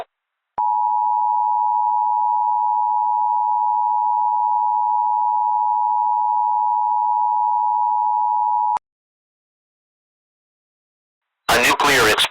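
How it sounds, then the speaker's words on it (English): An Emergency Alert System attention signal sounds as a single loud, unbroken electronic tone held for about eight seconds, followed by silence and then a brief burst of talk. "Important news and information will follow the alert signal."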